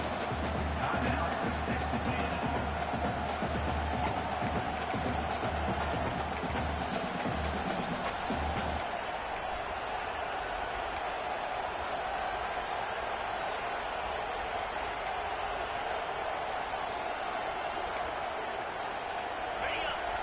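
Crowd noise roars steadily through a college football video game matchup between Texas A&M and Auburn on a 4th down, a dense continuous wall of cheering with a heavier low rumble in the first half before settling into a sustained din.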